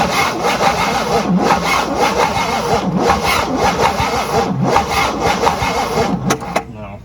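Old 1958 Super engine cranking over with fuel poured down the carburetor, a steady loud rasping churn of the starter that runs throughout and never catches, stopping abruptly near the end.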